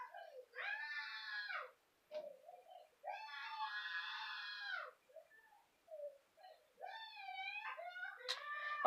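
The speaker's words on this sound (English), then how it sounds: "if you can hear that yelling, if you can, that's him." A young boy yells in long, strained, high cries, two sustained ones and then broken shorter bursts, heard alone at moderate distance with quiet gaps between.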